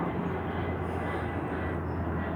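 An airplane flying, a steady broad engine roar holding at constant loudness throughout, fairly distant with no voices.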